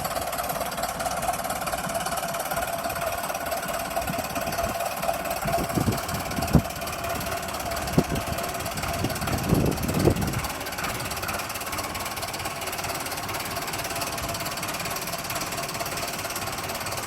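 A welder generator engine idles steadily with a smooth, even drone, a few brief knocks and clunks midway, then settles back to a constant hum.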